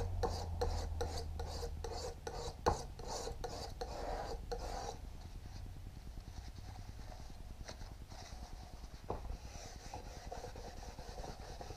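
A palette knife scrapes paint off a palette outdoors during plein air painting, a run of short rasping strokes in quick succession that then settle into softer, lighter scratching, all fairly quiet.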